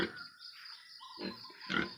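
A pig grunts nearby, a few short low snorts spaced apart, against faint high background noise.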